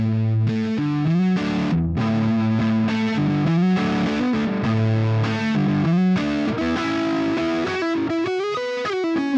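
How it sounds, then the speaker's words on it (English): A distorted electric guitar plays a lively, bending lead line with a nasal, honky midrange tone, continuous and fairly loud with no talking. "So one more time, Mr. Bill, let's show him what a honky guitar sound sounds like"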